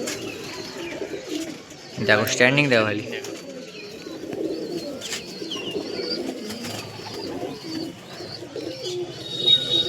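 Malbai and Punjabi pigeons kept for sale at a home loft coo in low, repeated murmurs, with a louder burst early on, while people talk over them.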